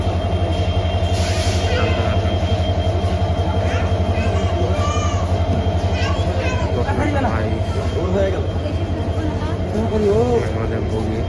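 A passenger train runs on a cold early morning near Santahar, its wheels and carriage giving a continuous loud rumble with squeals and clatter, heard from inside the coach, with voices now and then.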